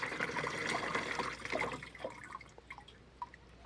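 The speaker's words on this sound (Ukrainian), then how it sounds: "Наливаємо пульверизатор." A boric acid and iodine solution is poured into a spray bottle for a tomato-setting treatment, giving a steady close splashing trickle that thins into scattered drips toward the end.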